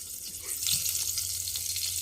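Sardines sauté in a pan with a close, constant sizzle and crackle of frying, punctuated by faint stirring scrapes over about two seconds.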